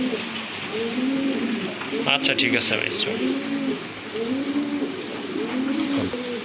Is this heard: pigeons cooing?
yes